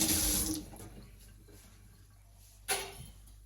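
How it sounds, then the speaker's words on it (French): Tap water runs loudly into a sink as a whisk is rinsed, strong for about half a second then trailing off into quieter flow, with a second short splash near the end. "je vais juste rincer mon fouet"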